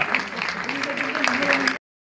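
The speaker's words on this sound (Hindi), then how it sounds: "सर इधर एक बार जोरदार तालियां।" Audience at a large Hindu community gathering breaking into loud sustained applause, dense clapping that fills the space for nearly two seconds before cutting off abruptly, with voices mixed in.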